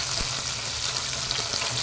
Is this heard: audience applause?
no